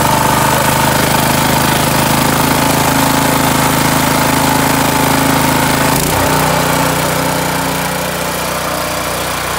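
A Honda GX200 small engine with a broken cam, restarted without choke, runs at a fast, steady high idle, loud and close, with a brief dip partway through and no talking.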